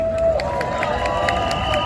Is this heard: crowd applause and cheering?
yes